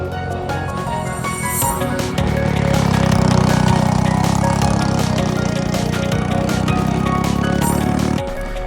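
A LO206 go-kart engine drones loud and close throughout a practice session, its steady buzzing note swelling and holding from about two seconds in, with rough wind-buffeted noise over it.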